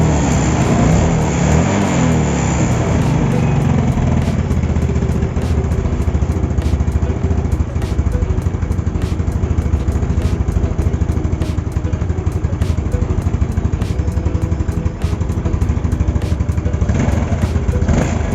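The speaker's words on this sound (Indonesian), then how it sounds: "Gue coba geber-geber dulu" A motorcycle engine with a PE 24 carburetor on a Yamaha Mio Sporty roars continuously, revving hard and steady at close range, with loud exhaust drone filling the whole stretch.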